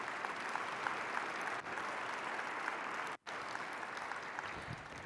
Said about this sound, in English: let's give Dave a round of applause for putting this conference together.